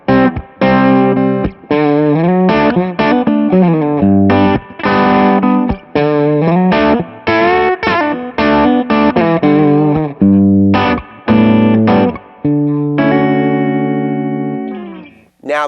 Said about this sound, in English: So here's my overdrive sound again.